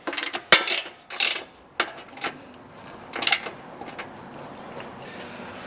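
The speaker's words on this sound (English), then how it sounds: "The bolts in the back can be wrenched on with a ratchet" Ratchet tightening the rear bolts of a Jeep JL Wrangler front bumper, several short bursts of metallic clicking with pauses between them, close and fairly loud.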